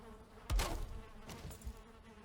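Bees buzz in the Valheim video game world, a brief swell of insect droning that rises sharply and then hovers softly in the background.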